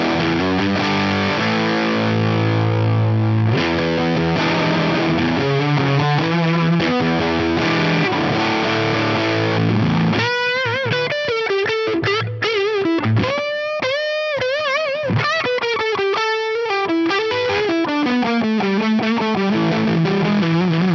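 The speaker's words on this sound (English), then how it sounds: "Let's hear the fuzz now on this." An electric guitar runs through a fuzz pedal on a Strat into a Marshall amp model, starting with held, saturated chords, then shifting to a loud, thick run of fuzzy single-note lead lines that carries on without a break.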